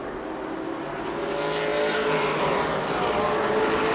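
Race cars roar around the track at New Smyrna during the World Series, a dense, continuous engine howl that swells slightly louder as the pack closes in.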